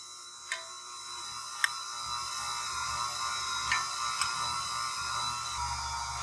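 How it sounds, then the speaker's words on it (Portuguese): An electric stand mixer runs on low speed while powdered milk is added to a cake mixture, giving a continuous whirring motor hum with a few faint clicks and taps, no voices. "Vou ligar minha batedeira aqui no fraquinho"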